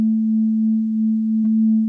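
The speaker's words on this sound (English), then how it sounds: "I figure the easiest way to show this is just by giving you a sine wave." Steady pure sine tone from a ZOIA modular synthesizer patch at its baseline pitch, held evenly and loud for about two seconds with a tiny click partway through.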